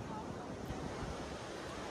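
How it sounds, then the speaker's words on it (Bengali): Sea waves wash onto the beach at New Digha, a steady broadband rush of surf with some wind noise running evenly from start to end. "এই ঢেউ সাগরে এন্ট্রি করলাম।"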